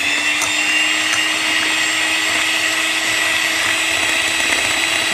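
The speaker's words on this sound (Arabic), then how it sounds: "هو المضرب شغال" An electric hand mixer runs steadily through eggs, sugar, vanilla and milk in a bowl, giving a continuous loud, close whirring drone with no pauses or speech.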